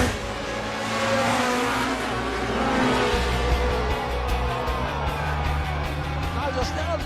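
A Formula 1 race car in the 1970s roars past while overtaking, its engine whining loudly under continuous talk from a commentator, with other cars droning around it.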